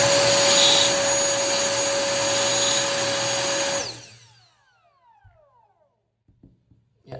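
Cordless jet fan turbo blower with a long nozzle running at full power boost, a loud steady roaring whoosh with a high whine for about four seconds before it winds down and fades to near silence, with faint knocks afterward.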